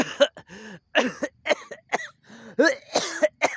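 A run of harsh, bursty coughs, roughly ten in quick succession with brief gaps, close and fairly loud, with some throat-clearing rasp between them.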